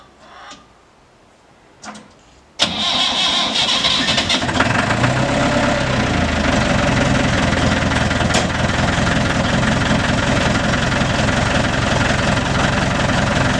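A Massey Ferguson 255 tractor is started in the cold after a couple of brief clunks, then its engine settles into a loud steady diesel idle with a rattling chug while warming up.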